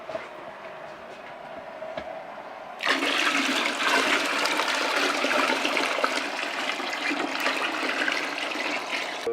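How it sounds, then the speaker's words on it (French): Water rushes over brewing grains as they are rinsed after mashing in home beer brewing; a quiet background suddenly gives way to a loud, steady pouring and splashing roar that continues to the end. "On rince nos céréales après l'empâtage."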